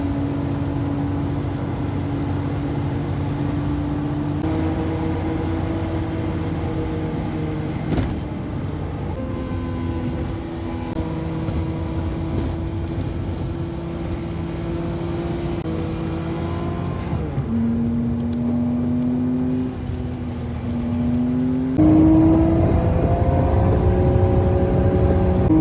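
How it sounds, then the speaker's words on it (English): A drift car cruises on a highway between Wyoming, Nebraska and South Dakota, its engine droning loud and close as a steady tone that steps up and down through the gears for the whole stretch. "So let's do some more driving."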